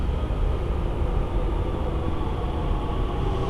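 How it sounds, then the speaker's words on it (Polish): A steady, heavy rumble of a train rolling through an enclosed underground station beneath the market square in Leipzig, continuous and loud, with no voices. "zobaczymy jakie jakie pociągi tutaj jeżdżą, bo akurat słyszę, że jeden nadjeżdża"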